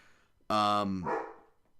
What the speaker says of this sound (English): Sorry, dog's barking.